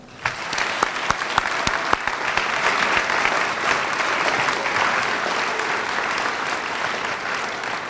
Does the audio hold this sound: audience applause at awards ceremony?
yes